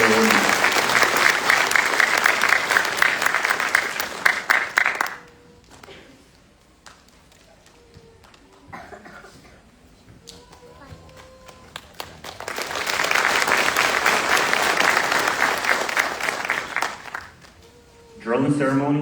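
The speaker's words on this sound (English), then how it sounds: "Please join me in a round of applause for the support awardees" Audience applause at a military graduation ceremony for a training class, loud sustained clapping for about five seconds, a quieter gap with scattered sounds, then a second long burst of clapping.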